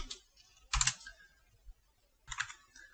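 Typing on a computer keyboard, two short bursts of quick, soft key clicks separated by a pause, close and quiet with no speech.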